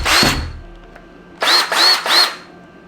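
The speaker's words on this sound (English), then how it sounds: "And then this is a drill whir." Handheld drill held up to the mic, a short whirring burst, a pause, then three quick whirs in a row, close and fairly loud.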